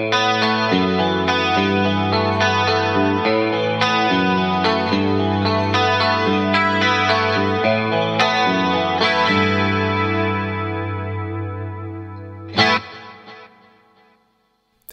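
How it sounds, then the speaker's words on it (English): A clean 1980s-style electric guitar through a tri-stereo chorus effect plays steady chords and picked notes with shimmering, wide modulation, loud and close, then rings out and fades near the end. "let's add in the tri-stereo chorus so you can hear both of them together"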